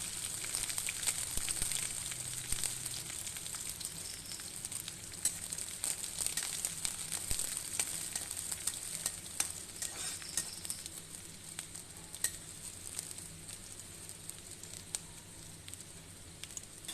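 Chopped onions sizzling in hot oil in a pan for a pumpkin and dried prawn dish, with a steady close crackle and patter of frying that continues without pause.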